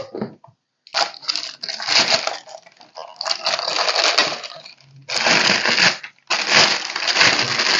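Plastic sleeve around a DS18 Gen X Series 4-channel 3600-watt car amplifier crinkles and rustles in several loud, close bursts with short pauses between them, no talk over it.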